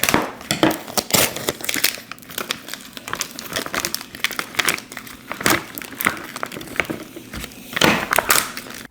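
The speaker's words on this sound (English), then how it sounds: "I'm gonna use the scissors to cut it from here." Crisp snipping and crinkling of scissors cutting through a vinyl sheet, close up, in quick irregular strokes with no talking.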